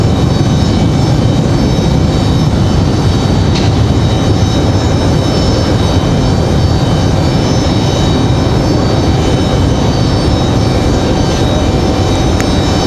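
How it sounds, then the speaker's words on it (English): An Airbus A321 takes off at Raleigh-Durham International, its jet engines producing a loud, continuous, broadband roar with a faint steady whine over the full stretch. "So that A321 out of here."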